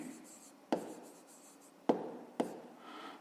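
A pen scratches on paper in a quiet room, soft continuous writing strokes broken by three sharp taps.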